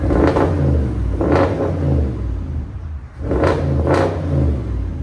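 An Audi S7 4.0L twin-turbo V8 with a muffler delete or straight pipe revs hard several times, each burst rising to a loud, throaty exhaust roar before dropping back, close to the listener.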